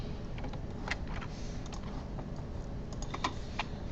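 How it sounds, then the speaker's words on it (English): Code is typed quietly on a computer keyboard in a classroom setting, with soft, uneven key clicks arriving in short bursts over a low background hum. "I'm going to type it in when I get back over there"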